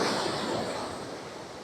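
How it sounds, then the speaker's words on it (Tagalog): Steady roar of strong surf breaking on a Boracay Island beach in bad weather, a continuous broadband wash with no clear gaps, fairly loud and close. "Medyo malakas yung alon talaga."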